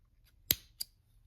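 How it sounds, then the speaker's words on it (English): Two quick, crisp snips of scissors cutting through yarn, the first louder, the second following a moment later, in a quiet room. "cut your yarn"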